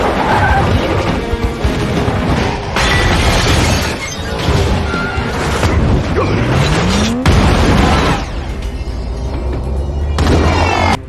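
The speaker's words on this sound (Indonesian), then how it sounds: "Tempat itu meledak karena bom yang sudah dipersiapkan Hobbs sebelumnya." Bomb explosion in an action film scene, a sustained loud roar of crashing, booming debris and shattering with a rising mechanical whine, dense chaotic impacts filling the whole stretch with no talk.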